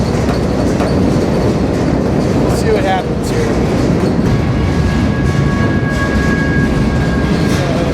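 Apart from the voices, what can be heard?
freight train rolling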